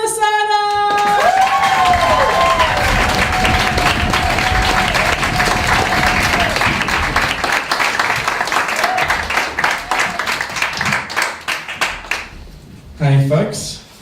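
A crowd at a stand-up comedy show applauds and cheers loudly and steadily as a comedian takes the stage, the clapping thinning out toward the end before a voice speaks briefly.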